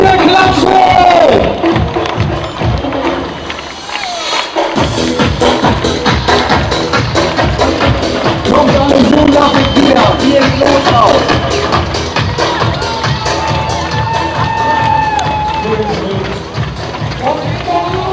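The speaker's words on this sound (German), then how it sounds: "hier rüber kommt der Klatschen" Spectators along the Lübeck Marathon course clap and cheer loudly and continuously around a runner, with rhythmic clapping, shouts and footsteps close by and voices mixed into the crowd noise.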